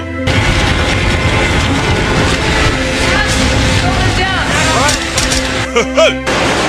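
Dense gunfire and explosive booms from an action film battle scene, loud and continuous, with mixed voices and effects underneath, ending in a few sharper bursts.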